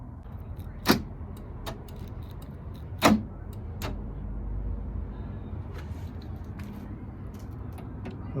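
On a 1990 Honda Civic EF, a door lock actuator fires in two sharp, loud clunks about two seconds apart, followed by a few fainter clicks and ticks over a steady low hum.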